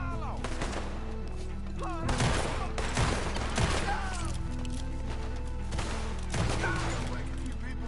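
Gunfire in the video game Red Dead Redemption 2 during a night shootout, loud repeated gunshot bursts in clusters with sharp cracks and ringing tails, over game music and occasional voices.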